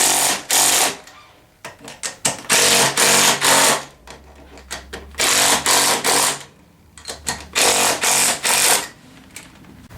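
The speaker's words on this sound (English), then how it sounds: "Now I can go ahead and just snug up all 4 nuts." A power tool snugs up the four wheel nuts on a Tao Tao 150 Hummer ATV during assembly, firing in loud, close bursts of rattling buzz separated by short pauses.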